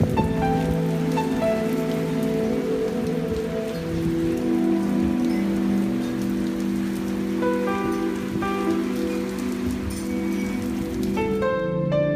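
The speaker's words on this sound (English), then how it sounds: "Blimey! It's raining!" Steady rain patters on hard surfaces nearby, a continuous dense shower of drops with faint tonal ringing underneath and no voices.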